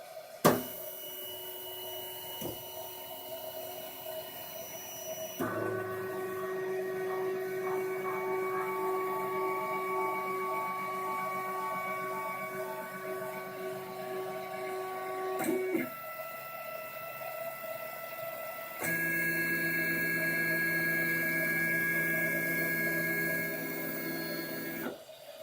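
A 3D printer hums and whirs with stepper-motor tones that shift pitch between passes, steady and close, after a sharp click at the start.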